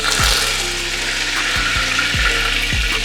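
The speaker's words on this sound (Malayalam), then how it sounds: "നമുക്കിതിലേക്ക് വെളിച്ചെണ്ണ ഒഴിച്ചു കൊടുക്കാം ഇതിലേക്ക് കുറച്ച് കറിവേപ്പില ഇട്ട് കൊടുക്കാം" Curry leaves dropped into hot coconut oil in a traditional uruli pan give a dense, loud hissing sizzle, steady and close, broken by a few low thumps and clinks from the vessel, with no talk.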